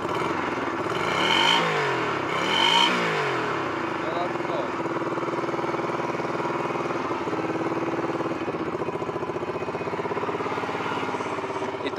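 Honda Shadow 125 motorcycle engine revved twice in quick blips that rise and fall, then settling back to a steady, close idle.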